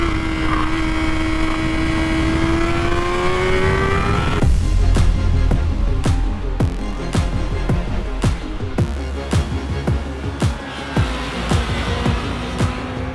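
Kawasaki Ninja ZX4RR, a high-revving 400 cc sport bike, riding on a track: a steady rising engine tone first, then loud, busy buffeting with sharp clicks and rumble as the bike pushes on, continuous throughout.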